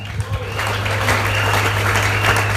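A church congregation applauds during a French-language service, a dense continuous clatter of clapping over a steady low hum, fairly loud and close, with some voices mixed in.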